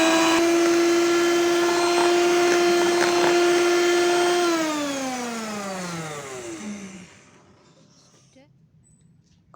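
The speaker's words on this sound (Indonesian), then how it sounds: "Flanya saya masukkan ke dalam whipped cream, kemudian akan saya mixer hingga tercampur rata saja" An electric hand mixer whirs loudly and steadily while blending custard into whipped cream, its pitch holding then dropping as it slows and winds down to a stop, leaving quiet.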